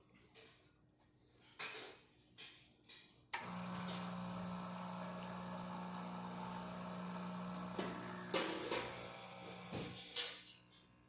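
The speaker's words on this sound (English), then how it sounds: "So let's make espresso shot." A La Spaziale Mini Vivaldi II espresso machine, freshly serviced with a new gasket, pulling a shot with a steady loud pump hum and hiss. Clicks and knocks sound before it, and clatter comes near the end.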